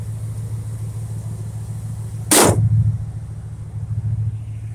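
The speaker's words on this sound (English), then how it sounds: "The Dodge Magnum V6." A 1993 Dodge Ram 250 work truck with a Magnum V6 engine runs with a steady low rumble, broken by one sharp, loud burst partway through before the even idle returns.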